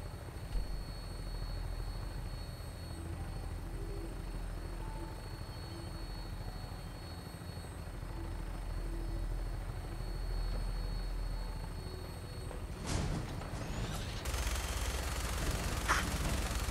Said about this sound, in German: Das erste Helikoptergefecht.